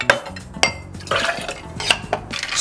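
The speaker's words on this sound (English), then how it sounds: "Cap that off into a shaker tin full of ice and give it a good shake." Ice rattles hard inside a metal cocktail shaker tin while making a Blue Island Splash, a loud, close burst of rhythmic clattering shakes with bright metallic chimes.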